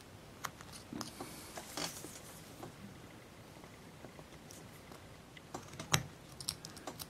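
A carving knife cuts wood on an Abe Lincoln bust, producing quiet, irregular small clicks and scrapes close by, a few sharper snaps as chips come away, with no speech.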